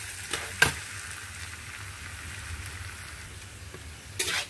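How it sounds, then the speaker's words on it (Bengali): Potatoes and mung dal frying together in a pan give a steady, low sizzling hiss with a few sharp ticks and stirring scrapes, one near the start and a brighter burst at the end. "মুগ ডালটা আমি এর মধ্যে দিয়ে দেবো, তারপরে আবার খানিকটা ভেজে নেব"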